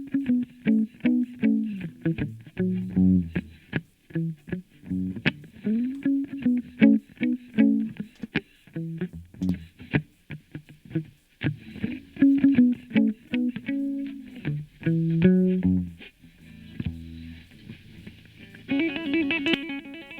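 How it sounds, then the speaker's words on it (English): An electric guitar is played through an Empirical Labs EL8 Distressor compressor for gritty distortion: a run of plucked notes and short phrases with pauses between them, close and upfront, ending in a brighter, buzzier burst. "You can really hear the distortion."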